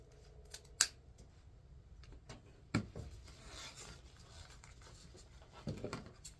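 Scissors cut Americana-patterned ribbon at an angle for a patriotic wreath swag, giving a couple of sharp, close snips among quiet rustling of the ribbon.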